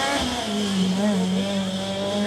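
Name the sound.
whiz of a Formula Student race car on the skidpad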